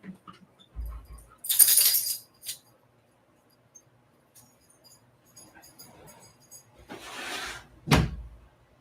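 Dogs give brief whimpers and yelps amid door and cupboard-like clatter as they are let out of a house at night, in short separate bursts with quiet gaps between them.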